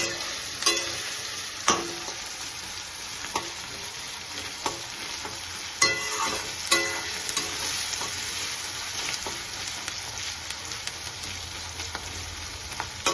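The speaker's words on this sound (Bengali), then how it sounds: "পেঁয়াজটা অনেকটাই নরম হয়ে গেছে, এই অবস্থায় একটু নেড়ে চেড়ে দিব।" Softened onions for rajma (kidney bean curry) being stirred in a hot pan, a steady sizzle broken by sharp scraping clacks of the spoon at irregular intervals, close and loud with no talking.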